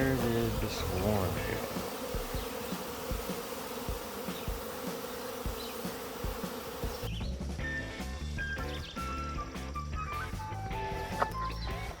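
Honeybees buzz steadily around a hive, a dense insect hum with individual bees whining close past, the sound shifting partway through.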